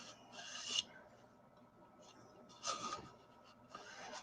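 Light hollowing cuts into a mesquite wood bowl on a lathe, making soft whispery rasping bursts, three short strokes spaced apart at close range and fairly quiet.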